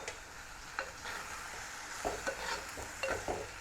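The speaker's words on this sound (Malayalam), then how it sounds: "നമ്മൾ നെത്തോലി ഇട്ട് കൊടുക്കാം ഇത് നന്നായിട്ടൊന്ന് മിക്സ് ചെയ്യാം" Anchovies are stirred and mixed in a pan for a thoran, with soft sizzling under intermittent scraping and tapping of a spoon against the pan, fairly quiet and close.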